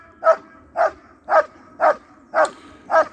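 Dogs bark during IGP protection training: six sharp, evenly spaced barks about half a second apart, loud and close, with quiet gaps between them and no talking.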